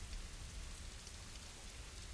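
Rain falling on streets in the game Cat President, a steady dense hiss of rain with a low rumbling undertone, continuous and even throughout, with no talk.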